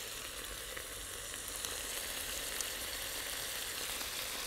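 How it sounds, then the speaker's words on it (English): Pork meat frying in a pan at an outdoor cooking spot, a steady, faint sizzle with no talking. "So while the meat is frying"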